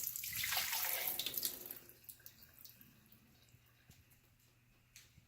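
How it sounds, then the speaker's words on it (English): Water soaked overnight with broccoli seeds is poured out in a kitchen, beginning as a rushing splash that fades into scattered drips and small trickles. "So we're just going to pour out the water."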